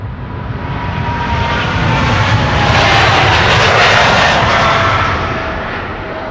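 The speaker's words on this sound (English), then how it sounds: "That's a 737 to Helsinki." A KLM Boeing 737 jet departs Schiphol for Helsinki, its engines a broad, steady roar that swells loudly toward the middle and eases slightly at the end, heard alone.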